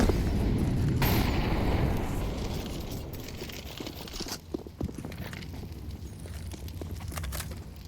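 Grenades going off on the Inferno map in a Counter-Strike 2 match, a loud burst at the start fading into scattered thumps, footsteps and distant pops at moderate level.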